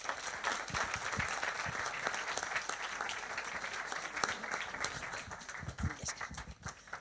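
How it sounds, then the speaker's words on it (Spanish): Audience applause fills a lecture hall on geopolitical conflicts, steady dense clapping from many hands lasting throughout, fairly close and even in level. "Gracias y un aplauso para Asier"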